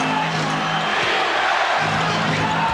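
Crowd at the 1991 NBA Finals Game 5 between the Bulls and Lakers roaring and cheering continuously, a dense, loud wash of arena noise with no gaps.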